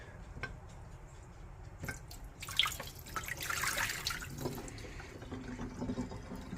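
Hot tap water rinses the roots of a coleus cutting, a soft running trickle with uneven splashes that swells in the middle and then settles into a gentle flow.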